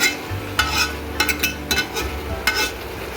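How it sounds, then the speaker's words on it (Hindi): Minced meat with peas (keema matar) frying in a pan, stirred with a utensil: a soft sizzle under a low hum, broken by several sharp scraping clatters spaced irregularly, close and fairly loud. "ज़रा ये अच्छी तरह भून लेते हैं"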